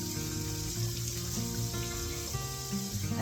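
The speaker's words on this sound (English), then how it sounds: "And then I pour that water off." Soaking water is poured off food being prepped for a wild game supper in a kitchen: a steady, close splashing stream heard against background music.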